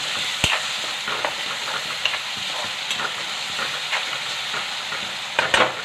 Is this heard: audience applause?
no